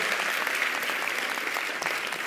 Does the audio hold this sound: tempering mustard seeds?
no